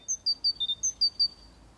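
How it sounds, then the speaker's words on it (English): Birdsong in a city: a bright series of eight short, high chirps in quick rhythm, clear and fairly close against a quiet background, with no voices. "city dwellers who couldn't believe their ears heard the birds sing"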